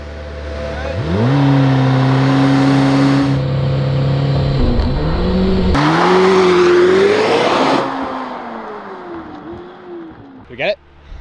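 A Lamborghini Temerario blasts off from a standstill after a couple of short throttle blips, its loud engine climbing in pitch through upshifts before fading away into the distance.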